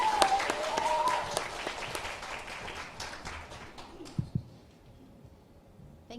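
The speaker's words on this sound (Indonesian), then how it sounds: "Tepuk tangannya sekali lagi." An audience at an open mic poetry event claps, loud and dense at first, then thinning into scattered claps and fading toward quiet, with some talk mixed in.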